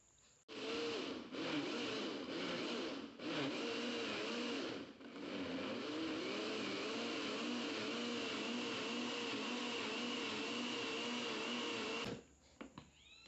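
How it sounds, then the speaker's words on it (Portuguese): A kitchen blender runs steadily and loudly, blending cooked corn with half a litre of milk for canjica, starting abruptly and droning without pause for about eleven seconds before cutting off. "Agora a gente vai passar no liquidificador"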